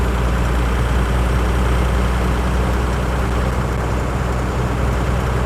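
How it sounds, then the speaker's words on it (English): A Toyota HJ75 Troopy with a turbocharged engine drives along, its loud, steady engine drone and turbo rush filling the cabin continuously with no talking. "All I can hear is turbo."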